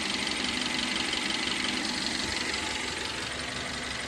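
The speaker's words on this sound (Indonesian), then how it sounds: "ini kipas dari radiator sudah nyala" A car engine idles while its radiator fan runs, following an overheating fault from a stuck thermostat; a steady, close broadband whir and engine rumble continue evenly with no talk.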